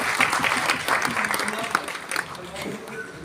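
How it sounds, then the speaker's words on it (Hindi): Audience at a retirement ceremony claps in a dense, lively round of applause that tapers slightly toward the end, with faint voices mixed underneath. "जोरदार तालियों से सबका स्वागत करें"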